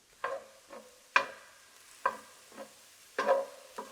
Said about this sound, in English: Once the ground chicken's almost cooked on up, I'm gonna toss in the diced mushrooms and some onion.